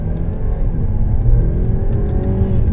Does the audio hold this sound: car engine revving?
yes